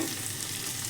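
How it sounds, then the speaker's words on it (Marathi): Garlic, masala and green chillies sizzle in hot oil as a tempering for palak paneer, a dense, loud, continuous crackling hiss without any voices. "बघा, अशी फोडणी द्यायची अशी."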